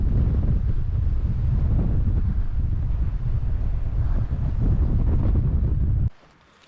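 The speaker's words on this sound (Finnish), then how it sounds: "Tässä oli kauhea tuuli" Strong, steady wind roars and buffets the microphone beside a wilderness lake in Finnish Lapland, a loud continuous rush for about six seconds before cutting off abruptly.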